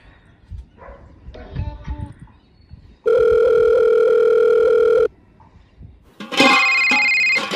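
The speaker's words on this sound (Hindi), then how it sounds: "ओ कौन को आयो भाई सुना रे पहले फोन" A telephone rings in a village home, one sustained electronic ring lasting about two seconds, then a second brighter ring burst later; a dog whimpers and yips and people talk in between.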